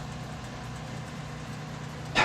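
A Bizon combine harvester engine runs in a video game, a steady low idling drone that holds evenly throughout, with a brief louder burst of noise near the end.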